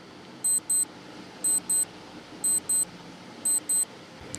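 A quiz countdown timer sounds on screen as paired high electronic beeps repeating once every second, a steady rhythmic pattern over faint background hiss with no talking.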